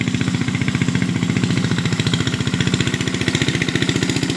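A farm machine's engine works a planting field with a close, loud, steady chugging pulse, the fast regular beats running without a break and with no talk over it.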